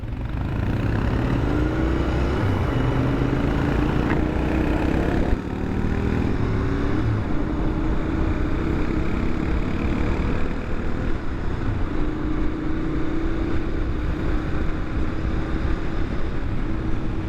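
A 2021 Royal Enfield Interceptor 650 motorcycle engine drones continuously while riding, a steady low rumble with wind noise and slight shifts in pitch throughout.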